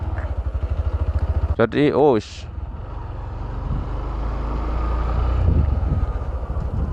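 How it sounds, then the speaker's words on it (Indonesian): A motorcycle engine chugs in a steady pulsing idle, rises briefly in a sharp rev as a gear is shifted, then settles into a continuous, louder drone with wind noise; a voice briefly speaks over it. "ketika mesin sudah mulai mengerang, kopling gas turun, persneleng naik"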